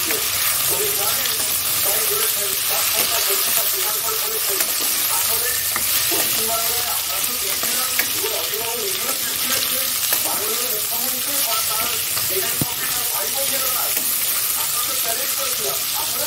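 Vegetable stems and potato pieces frying in a pan, a loud dense sizzle and bubbling crackle that holds steady throughout, with a few faint knocks.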